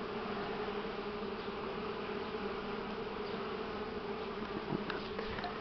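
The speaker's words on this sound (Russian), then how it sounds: "пчел здесь много" Buckfast honey bees swarm around their hives in spring, a dense, steady drone of many wings with occasional louder passes close by, faint and continuous, with no voices.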